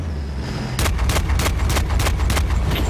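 Gunfire in Battlefield Bad Company 2, a run of about seven sharp, evenly spaced shots over a low rumbling battle background, loud and close, following a quieter lead-in without speech.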